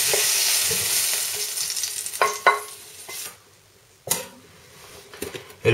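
Longaniza sausage sizzles in a frying pan with a bright hiss that fades off midway, punctuated by a few sharp clinks and scrapes, heard close with no talking.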